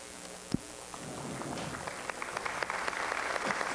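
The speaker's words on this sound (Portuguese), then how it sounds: "Palmas" Applause from a church congregation at a festive Catholic ceremony, heard after a papal bull appointing a monsignor is read: a dense, steady patter of many hands clapping, faint and distant, with scattered sharper claps throughout.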